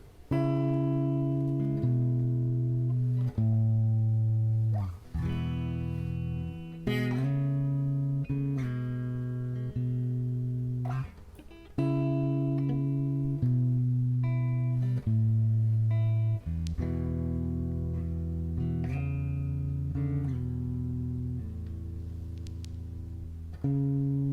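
Guitar strings are picked in a slow, ringing pattern of single notes and occasional strums, moderately loud, with no talking.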